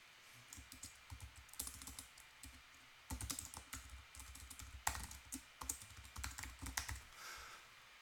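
Quiet typing on a computer keyboard while a template name is entered, a steady run of soft key clicks with short pauses, close and alone.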